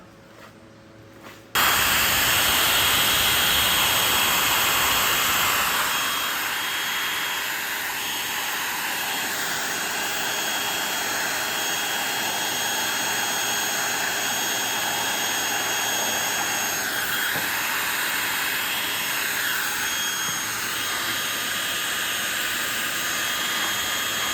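Heat gun shrinking heat shrink tubing during a Ford air-conditioning fan motor repair, switched on abruptly into a loud, steady blowing roar and hiss that eases slightly after a few seconds and runs on unbroken.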